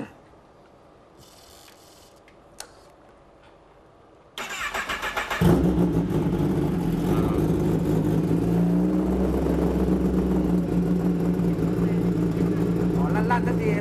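A motorbike engine is started after a quiet stretch, catching abruptly and then running into a loud, steady revving drone that holds close for the rest of the time, with voices talking around it.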